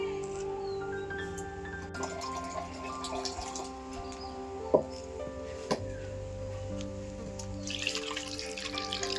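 Peeled carrot and beetroot get washed under running water in a kitchen, a steady tap stream with light splashing and a couple of sharp knocks midway, alone without talk.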